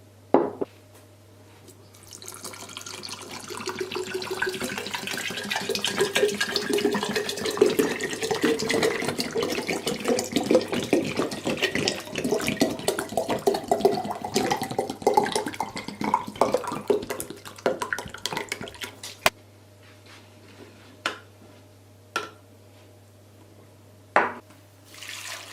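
Tap water runs steadily into a sink while cucumbers are washed, a continuous splashing flow that stops partway through, followed by a few sharp drips and clinks in near quiet.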